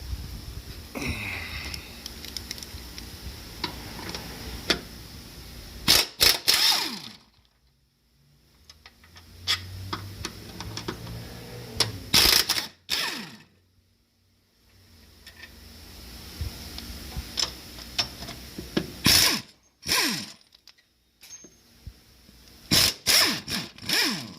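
Tools work on the 14 mm bolts holding the starter of a Lexus LS460, giving sharp ratchet and impact bursts in short clusters separated by near-silent pauses, close up with no talking.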